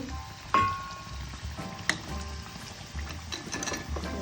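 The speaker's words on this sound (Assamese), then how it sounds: "এয়া আমাৰ কচুৰি ভাজি আছোঁ।" Onion kachori fries in hot oil with a soft, continuous sizzle and scattered crackles, plus a couple of sharp clinks from a utensil; no talking.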